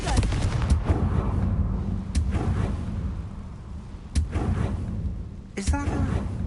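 Fiery Confringo spell blasts in Hogwarts Legacy, a few sharp bursts over dense game ambience and music, with a sudden loud crack near the end.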